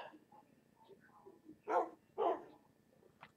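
Two short, loud barks from a dog in Minecraft, spaced about half a second apart over a quiet game background, with a faint higher yip near the end.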